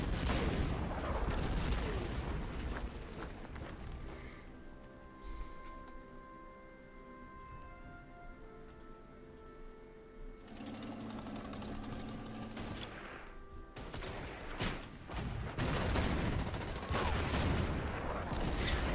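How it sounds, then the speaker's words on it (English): Anti-aircraft guns fire in Order of Battle: World War II, bursts of booming shots and rattling fusillade that open and close the passage, with a quieter stretch of sustained tones in between and no speech. "So they do have anti-aircraft gun"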